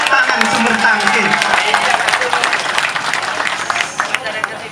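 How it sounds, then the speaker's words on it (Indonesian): Crowd applause at a coffee farmers' harvest thanksgiving ceremony in Sumbertangkil, dense sustained clapping filling the space for several seconds, with voices mixed in. "yang pertama tepuk tangan Sumber Tangkil"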